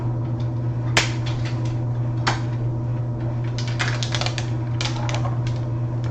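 A knife cuts open a dry, brown Japanese curry cube, giving sharp clicks and crisp cracking taps in scattered bursts over a steady low hum, close and fairly quiet.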